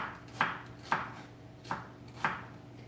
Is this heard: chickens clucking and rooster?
no